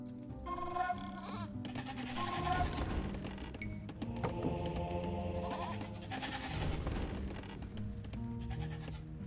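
Repeated sheep bleats in Age of Empires II over a busy game soundscape, several calls in succession with clicking and background tones.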